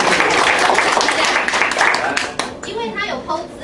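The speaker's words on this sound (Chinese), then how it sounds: "来，掌声鼓励。" An audience at a business talk claps together in a brisk burst of applause that fades after a couple of seconds, with a voice speaking as it trails off.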